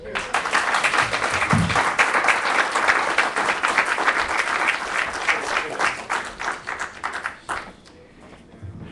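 Audience clapping for a performer's audition, a dense, loud round of applause that holds steady for most of the stretch, then thins out near the end as a voice briefly comes in.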